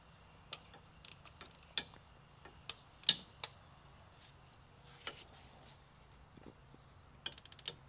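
A socket ratchet loosens a bolt on a 2012 Chevy Equinox during oil pan work: quiet, close, sparse clicks come one at a time at irregular intervals, ending in a quick burst of rapid ratcheting, with no talk.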